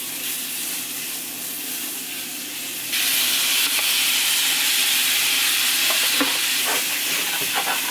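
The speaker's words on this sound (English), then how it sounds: "Now I'm gonna add more butter to the pan and get started cooking these shrimp." Shrimp frying in butter in a pan give a loud, steady sizzle and hiss up close, which jumps in intensity partway through, with a few light stirring clicks near the end.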